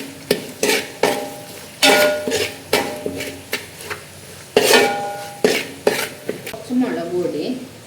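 A spoon stirs spices and turmeric powder in a pan, a series of loud metallic scrapes and clanks in an uneven rhythm over a low sizzle, close up with no talk.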